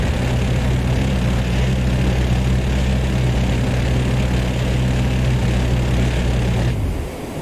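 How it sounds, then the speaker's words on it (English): Aircraft cannon firing in the flight simulator DCS World, a loud continuous droning roar with a steady low buzzing rumble, sustained for several seconds and cutting off abruptly near the end, no talk. "we will fire the gun"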